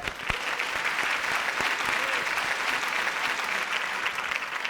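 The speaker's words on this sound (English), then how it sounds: "Round of applause, why not right now?" Audience at a live insurance-competition finale gives a loud, sustained round of applause, dense and even from start to finish.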